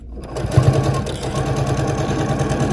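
A sewing machine runs steadily while stitching a quilt block seam, a close, continuous mechanical whir with a rapid needle rhythm that starts after a brief quiet moment and holds for the rest of the clip.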